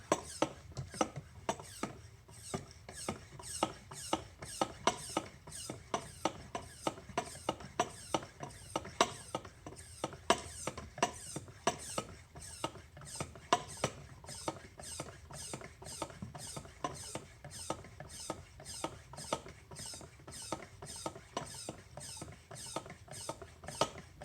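A hand pump squeaks in a steady, evenly spaced rhythm of quiet creaks and clicks, stroke after stroke, during a brake fluid change on a Volvo P3 with a 2.5L engine.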